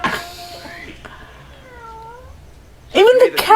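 A cat meows in a drawn-out falling cry, then lets out a louder, harsher burst of meowing near the end, with a person speaking at the start.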